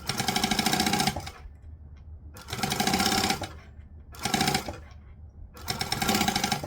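A sewing machine stitches a fabric strap for a small bag in three or four loud, steady bursts, each lasting about a second, separated by short pauses.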